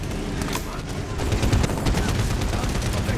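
Rapid automatic gunfire rattles in dense, continuous bursts in the Medal of Honor Warfighter video game. The shooting is close and loud, with heavy low thumps mixed in.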